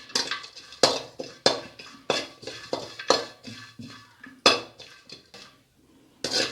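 Dry ginger being roasted and stirred in a pan, a close series of sharp metallic scrapes and clinks coming at irregular intervals, with short quiet gaps between strokes.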